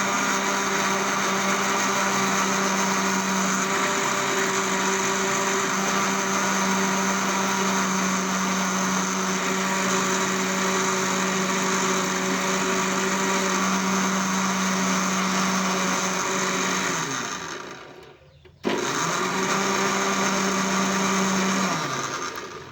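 A kitchen blender whirs steadily while blending milk, a loud even motor drone that cuts out briefly near the end and then restarts, with no talking.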